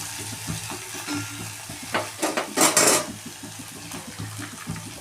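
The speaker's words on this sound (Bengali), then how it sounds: "থেতো করা আদা আর রসুনটা আমি দিয়ে দিলাম তেলের মধ্যে" Crushed ginger and garlic sizzle in hot mustard oil for a katla fish bhapa, with a constant frying hiss. Utensils clink and stir against the pan, and a louder sizzling burst comes near the middle.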